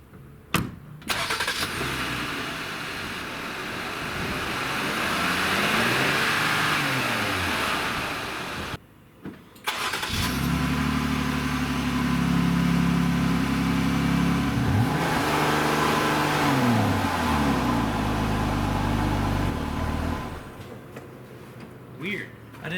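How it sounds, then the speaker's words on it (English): Jeep Gladiator on its stock exhaust, cranked and fired up, then idling and revved repeatedly in rising and falling sweeps with a brief pause between, loud and close, with voices talking at times. "this is our before sound clip"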